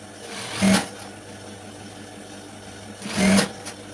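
A sewing machine stitches a seam on a school skirt in two short bursts of rapid mechanical whirring and clatter, separated by a quiet pause with faint room noise.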